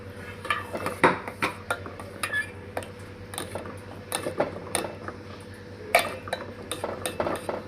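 Homemade aloe vera soap mixture being stirred in a bowl, with a utensil clinking and scraping against the sides in irregular strokes, close and fairly loud, no talking.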